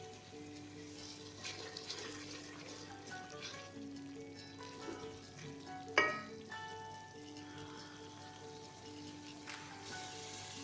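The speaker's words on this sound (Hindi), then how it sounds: "अब मैं ऐसे थोड़ी देर भूनूँगी कि इसका जो है तेल जो है वो निकल आए" Masala frying in oil in a pan for a roasted chicken dish with yogurt sauce, a faint sizzle with soft stirring scrapes and one louder knock, under a steady hum.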